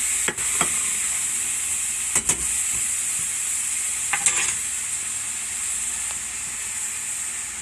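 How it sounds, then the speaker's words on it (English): Onions frying with half a stick of butter in a pan give a steady, close sizzle and hiss throughout, broken by a few brief stirring scrapes. "Once we go translucent with these onions, half a stick of butter"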